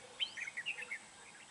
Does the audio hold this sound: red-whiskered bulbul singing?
yes